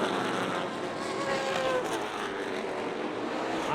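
ARCA Midwest Tour stock cars race hard down the backstretch at Rockford Speedway, a steady, loud engine roar with whining tones rising and falling as the pack passes at a distance.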